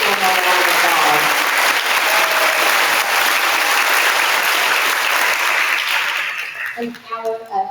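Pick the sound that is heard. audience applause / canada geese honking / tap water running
audience applause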